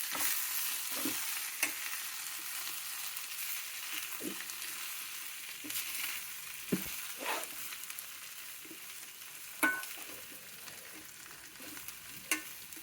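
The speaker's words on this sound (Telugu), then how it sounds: "కొద్దిగా సిమ్లో వేగనివ్వాలి." A broad bean curry fries gently on a low flame, a steady soft sizzle broken by scattered scrapes and clicks of stirring.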